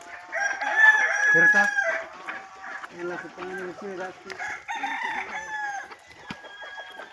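Free-range country chickens, gavran village birds on a farm, cluck and a rooster crows among them in a busy, close-up flock chorus, with someone talking over the birds throughout.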